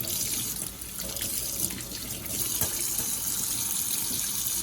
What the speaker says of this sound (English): So I go ahead and I try to do this to rinse it all out really nice.